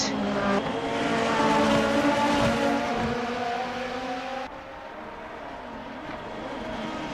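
A Formula race car in a racing video game roars down the main straight at Tokachi, its engine note climbing steadily and close, with a brief shift in pitch before it settles into a sustained high drone.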